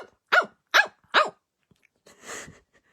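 A person imitates a small dog barking, giving three quick close yaps in a steady rhythm followed by a short breathy huff.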